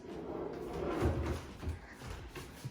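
A drawer in a cabinet under a kitchen sink in an unfurnished apartment slides open or shut with a low wooden rumble and a couple of soft knocks, close and moderately loud with no talking.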